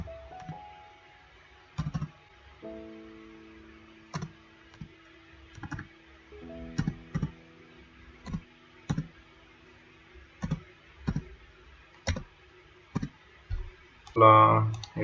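Debit card details are typed on a keyboard as sparse, crisp clicks in irregular ones and twos, with faint low tones in between and a short burst of voice at the end.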